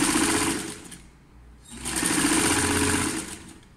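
A sewing machine stitches a blouse seam with a 1 cm allowance, running in two steady, whirring bursts up close, separated by a brief pause.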